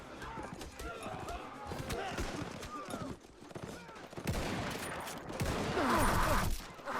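Gunfire in the WW1 game Between Empires, with rattling bursts and shots mixed into a busy battle din, swelling louder toward the end while a voice talks over much of it.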